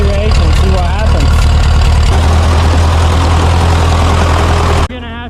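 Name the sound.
old rusty tractor engine idling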